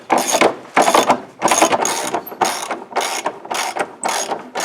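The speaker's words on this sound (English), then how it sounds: "after you tighten down all the bolts and torque them down to 35 foot-pounds" A ratchet wrench tightens the bolts of a transfer case drop on a vehicle, loud and close, with a series of rasping clicking bursts separated by brief pauses as the handle swings back and forth.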